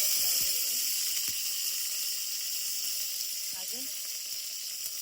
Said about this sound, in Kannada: ಈಗ ಸಾಸಿವೆ ಹಾಕ್ತಾ ಇದ್ದೀನಿ ಒಗ್ಗರಣೆಗೆ, ಹಾಗೆ ಸ್ವಲ್ಪ ಜೀರಿಗೆ